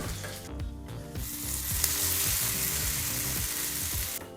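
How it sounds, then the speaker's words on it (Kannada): Hot spice tempering poured into chutney, a loud close burst of crackling sizzle that swells after a brief pause and holds steady, with a few pops along the way. "ಈಗ ಒಂದು ಮೂವತ್ತು ಸೆಕೆಂಡು ಎಲ್ಲ ಪದಾರ್ಥನೂ ಬಿಸಿ ಮಾಡಿ ಬಿಸಿಯಾದಂಥ ಒಗ್ಗರಣೆಯನ್ನು ಚಟ್ನಿಗೆ ಹಾಕ್ಕೊಳ್ಳೋಣ"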